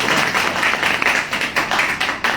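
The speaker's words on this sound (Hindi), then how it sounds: "एक तालियां हो सकती है।" Audience clapping at a gathering, a dense, steady round of applause from many hands, fairly close and continuous, with no talk over it.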